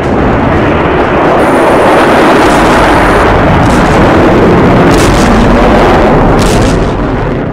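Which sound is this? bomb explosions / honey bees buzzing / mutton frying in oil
bomb explosions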